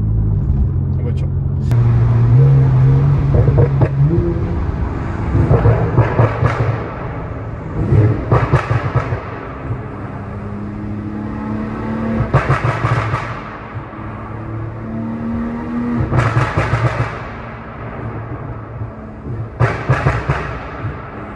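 A car climbing a mountain road to Verbier, its engine rumbling and surging through repeated accelerations, loud and close, with someone talking over it throughout.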